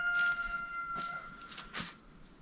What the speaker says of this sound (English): Apparently there's a rooster somewhere.